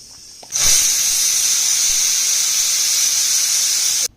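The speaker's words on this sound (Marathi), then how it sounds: "4 शिट्ट्या करून घ्यायच्या आहेत." A pressure cooker cooking toor dal lets out a loud, continuous steam whistle and hiss that starts abruptly, holds steady for about three and a half seconds and then cuts off.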